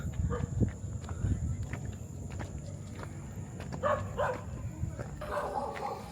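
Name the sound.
many dogs barking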